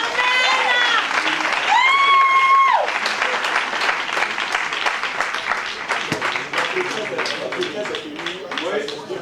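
A church congregation applauding, with raised voices at the start giving way to a sustained wave of clapping that fills the room.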